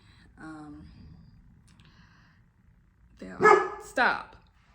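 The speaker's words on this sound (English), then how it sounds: "my dog was barking" A dog barks indoors at close range. One bark comes early, then two sharp, loud barks follow in quick succession near the end, with quiet in between.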